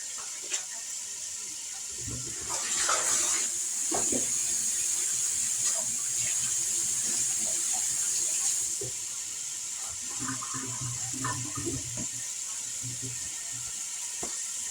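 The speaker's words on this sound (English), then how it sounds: "Let me wash my hands off, they're sticky from those onions." A kitchen tap runs steadily as hands are rinsed clean of sticky onion juice, with a close splashing hiss for several seconds before the flow drops off.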